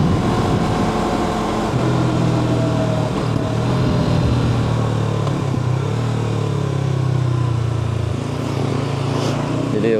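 A motorcycle cruises along a road on an early-morning ride toward Sermo, its engine holding a steady, loud drone with a faint rise and fall in pitch throughout.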